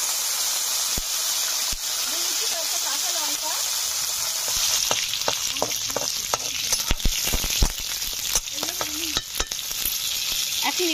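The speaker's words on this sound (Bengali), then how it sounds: "রসুনগুলো হালকা ভাজা ভাজা হয়ে এসছে" Garlic sizzles in hot oil with dried red chillies and nigella seeds, a constant close crackle broken by sharp spatula scrapes and clinks that grow busier in the second half.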